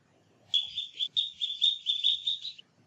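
Ducklings chirp in a quick run of high, thin peeps, several calls strung together over a couple of seconds against a quiet background.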